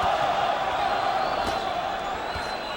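Boxing crowd at Madison Square Garden during Miguel Cotto's bout, a dense, steady roar of many voices chanting and cheering at one sustained level throughout, with no clear speech on top.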